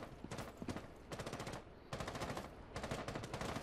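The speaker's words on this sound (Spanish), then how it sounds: "Sí, están disparando a la mierda esa del escudo" Rapid automatic gunfire from Rainbow Six Siege in bursts of about half a second to a second, with short pauses between, loud and close with no talk over it.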